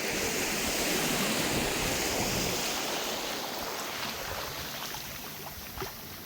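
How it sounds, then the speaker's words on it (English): Surf washes steadily onto the shore at Paraiso Beach in Taganga, a continuous broad rush of waves close by that fades slightly toward the end, with no voices. "So I'm at Paraiso Beach"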